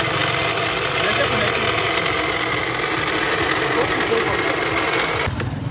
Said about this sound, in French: le bruit se trouve à l'intérieur de l'alternateur